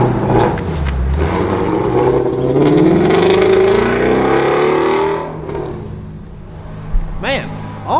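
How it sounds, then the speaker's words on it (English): A car engine roars and revs up, its exhaust rising in pitch before easing off, loud and close, with a couple of brief chirps near the end. "That exhaust note though."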